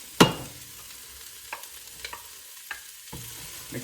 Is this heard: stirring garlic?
yes